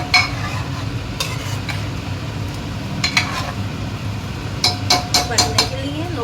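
Butter chicken mixture being stirred in a pan, with scraping and a few sharp clinks of a spoon against the metal rising over a steady low cooking bed, close and moderately loud.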